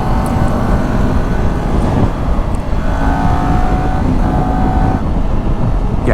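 A Kawasaki Ninja 400 motorcycle cruising at highway speed, its engine droning steadily and loudly beneath heavy wind rush, with a few faint shifts in pitch as it holds pace.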